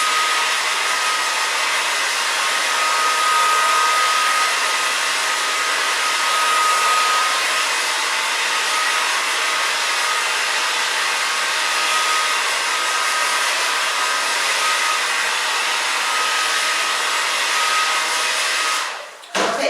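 A hair dryer runs steadily and loud throughout while drying a woman's lob-length haircut, a continuous broadband whoosh with a faint whine, cutting off abruptly at the very end.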